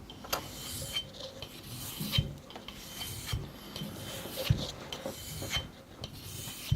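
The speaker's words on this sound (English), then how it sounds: "there's the alternating strokes, getting rid of that burr that we've put on through the repetitive sharpening" Knife blade drawn across a sharpening stone in alternating strokes to remove a burr, a series of soft scraping rasps with light clicks, close but fairly quiet, no talking.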